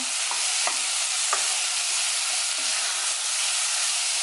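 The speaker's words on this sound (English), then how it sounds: "So now I'm just mixing everything around just to make sure everything is getting done" Cabbage, carrot, peppers and saltfish sauté in a pan for Jamaican steamed cabbage, a dense continuous sizzle with a few soft scrapes from stirring running underneath.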